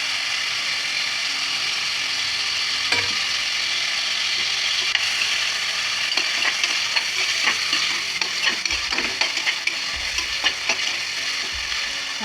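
Chopped tomatoes fry and sizzle in a pan while being stirred for chicken biryani. A steady close hiss runs throughout, broken by frequent scraping, clicking strokes of the spoon against the pan, with no talking.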